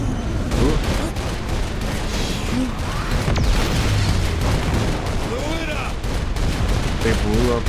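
Firework rockets bursting during an Independence Day celebration, a dense run of crackling pops and booms with whistling streaks, loud and continuous, with people talking over them.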